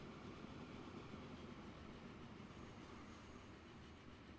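Trains rolling over a bridge in the video game Transport Fever 2 make a steady, faint, continuous rumble with a soft rattling texture and no talk over it.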